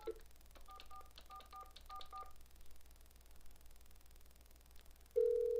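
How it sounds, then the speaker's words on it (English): A phone line running Google Voice through an Obihai adapter on speakerphone dials out with a quick series of faint keypad tones. A quiet stretch follows, then a steady tone starts at the end. "Now I'm going to dial a phone number,"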